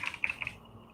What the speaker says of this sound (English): I like how your keyboard sounds.